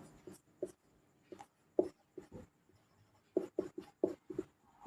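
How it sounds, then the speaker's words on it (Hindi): Chalk or marker taps and scratches on a board in short, uneven bursts, close and faint, with brief pauses between strokes and no talk. "इधर लिखेंगे अपन पॉइंट"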